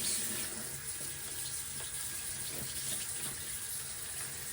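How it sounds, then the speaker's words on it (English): A paddle brush rinsed under running tap water in a sink, a steady, close rush and splatter of water without pause. "I'm gonna rinse my paddle brush off because there's so much product"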